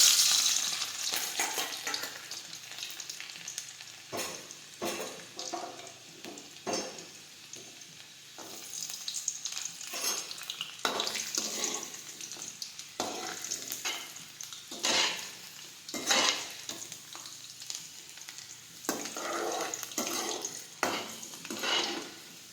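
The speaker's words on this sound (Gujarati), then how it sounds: "હવે તેમાં આપણે રાઈ અને જીરું નાખી દઈશું. લસણ નાખીશું." Mustard seeds, cumin and garlic sizzle and crackle in hot oil in a pan, a steady close frying hiss broken by sharp spattering pops and stirring scrapes, with no talking.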